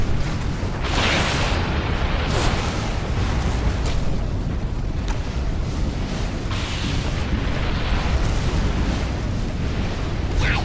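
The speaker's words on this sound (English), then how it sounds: "I just like to destroy all these explosive crates so that I don't run the risk of them killing me if they blow up while I'm right next to them." Explosive crates blowing up in the Halo 2 campaign on the Oracle mission, a dense, loud wall of booming blasts and rumbling debris that continues without pause.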